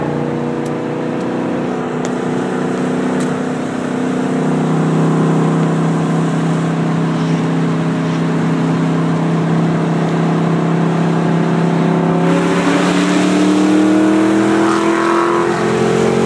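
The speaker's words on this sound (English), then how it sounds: "Test driving the Mach 1, it's fully up to temp." A Ford Mustang Mach 1 cruising on the highway, its engine drone loud and steady inside the cabin, the pitch rising and dipping as the throttle changes and swelling near the end under road and wind noise.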